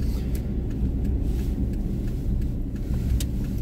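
A car drives through city streets in Japan, its engine a steady close rumble with low road noise throughout and no talk over it.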